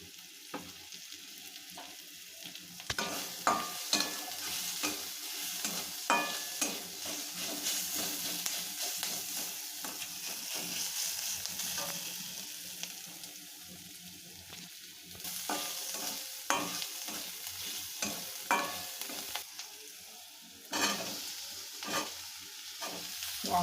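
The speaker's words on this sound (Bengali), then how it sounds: "আলুটা ঢেলে দেওয়া হবে, নাড়া হবে।" Potatoes frying in hot oil for an egg curry, a continuous sizzle broken by repeated scraping stirs of a spatula against the pan, with louder bursts of stirring toward the end and no talking.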